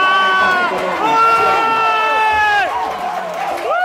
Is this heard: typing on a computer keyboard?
no